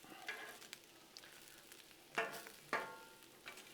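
Peppers fry on a Blackstone griddle in a breakfast hash, a faint continuous sizzle broken by several sharp metallic spatula scrapes and clacks, two of them louder, with no talking.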